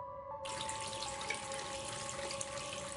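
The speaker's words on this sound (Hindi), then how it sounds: "बस पानी का नल चल रहा था।" A water tap in a school washroom starts abruptly and then runs in a steady, even hiss, close and alone, with no voices.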